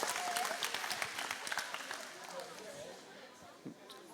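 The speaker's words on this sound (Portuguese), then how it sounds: "Vamos aplaudir, é isso aí." An audience applauds with a dense patter of clapping that gradually thins and fades over a few seconds, with chatter and voices mixed in.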